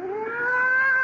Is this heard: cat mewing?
yes